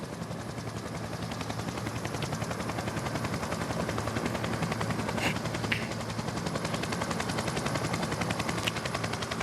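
Helicopter filming the Mont Ventoux stage of a 2023 cycling race, heard as a steady, loud, rapid rotor chop that continues without pause.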